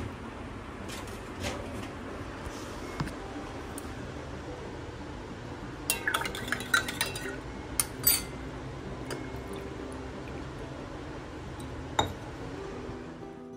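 Light glass clinks and a few sharp taps of a spoon against a glass taken from a microwave as chia seeds are added sound over a steady hum, scattered through the middle of the clip.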